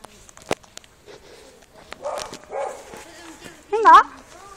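A child barks like a dog in short yipping bursts, a voice imitation of a dog barking amid other talk and household noise, loudest near the end.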